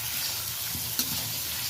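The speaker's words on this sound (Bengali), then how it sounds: "মশলার সাথে একটু হালকা করে পেঁপেটা ভেজেও নিচ্ছি" Papaya fries with spices, onion and tomato for a duck curry, a dense continuous sizzle with a stirring scrape and one sharp clink near the middle, close and steady, with no talking.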